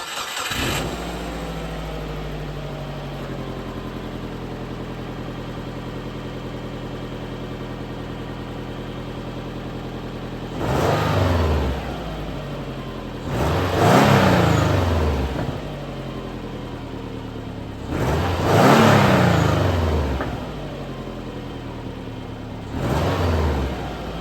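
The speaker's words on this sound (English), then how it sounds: "let's go ahead and listen to what the stock exhaust sounds like on a Forester XT" A Subaru Forester XT with its stock exhaust, which has a hole in the resonator, cranks and settles into a steady idle, then revs sharply four times in separate bursts, each rising and falling back to idle.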